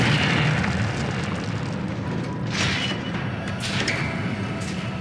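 The Incendio fire spell cast in the video game Hogwarts Legacy, several whooshing fiery bursts with low booms over a rumbling game soundscape, moderately loud.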